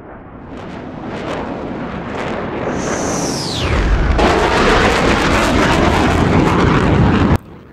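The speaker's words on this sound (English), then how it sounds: "You'll hear the whistle sound again like a Jetson jet." An F-35 fighter jet in a flight simulator, heard up close, gives a rising roar topped by a distinct descending whistle that sweeps down, then swells into a loud, broad engine rush before cutting off abruptly.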